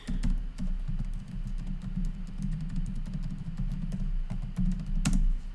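Steady computer keyboard typing with clicks, a continuous run of close, fairly quiet key taps over a low background hum, ending in a louder tap near the end.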